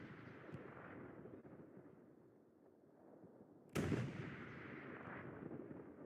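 A tank cannon booms in the World War II shooter Hell Let Loose during a Panzer IV versus Sherman fight, one sharp loud blast cutting through distant rumbling battle noise, then a lingering roar.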